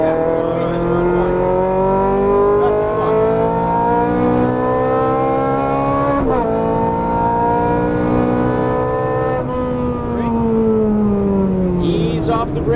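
A Ferrari 430 Scuderia engine held under throttle on a track, a loud, smooth rising and falling tone as revs build and ease through the corners, heard from inside the car with an instructor's voice over it.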